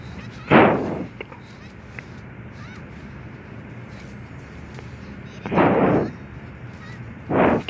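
Three heavy explosions go off in the action game Honkai Impact 3, each a loud, booming burst: one early, then a long pause, then two more close together near the end over a low battle backdrop.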